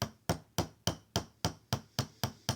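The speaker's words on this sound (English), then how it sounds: "There's some dry in that whisk. Let me try to beat that out a little bit." A wire whisk rapped against the rim of a bowl to knock out dry gesso gives about ten sharp, evenly spaced knocks in quick succession, close and clear, with no talking.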